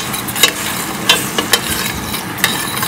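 Brinjal in a garlic gravy with soy sauce sautés in a pan, giving a steady sizzle broken by a few sharp stirring scrapes and clinks, close and alone with no talk.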